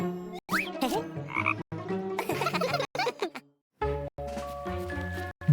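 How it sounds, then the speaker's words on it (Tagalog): Cartoonish frog croaks in quick warbling bursts with jingly musical tones, broken by brief silences and a low bouncy thud near the end. "Isang palaka!"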